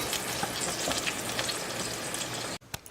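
Ground turkey browns in a hot pan, a dense continuous sizzle and crackle of frying meat with occasional stirring, ending abruptly after a couple of seconds.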